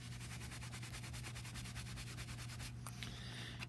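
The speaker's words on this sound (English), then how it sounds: "Get the washer nice and shiny as well. All the way around, both sides, both front and back." Steady rhythmic rubbing of abrasive against a corroded metal washer, a dense scratchy scrubbing of even strokes, close and continuous, with a short pause and lighter scraping near the end.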